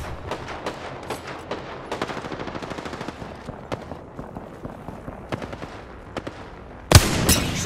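Wingman pistol fire in a video game at Golden Sands outside Bunker: a dense run of sharp, repeated shots and echoing reports, with a loud closing burst near the end.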